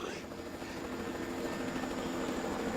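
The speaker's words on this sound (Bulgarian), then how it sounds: "Хеликоптерът отлетя." A helicopter departing above a jungle canopy while the listener hangs some 30 metres up, its steady broadband rotor and engine roar filling the scene at a constant level, with a voice speaking briefly over it.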